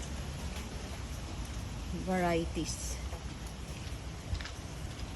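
Heavy rain pours steadily during Super Typhoon Enteng in a garden of rubber plants, a dense continuous hiss close by, with a person talking over it.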